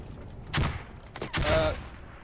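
Two muffled bursts of gunfire from a Squad match land about a second apart, quiet and distant over low background rumble.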